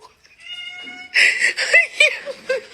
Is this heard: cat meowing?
yes